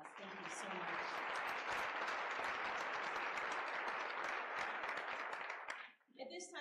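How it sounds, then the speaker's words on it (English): Round of applause at a luncheon, sustained dense clapping from a large audience that swells quickly, holds steady, then tapers off, with a voice speaking briefly at the end. "Let's give them one last round of applause."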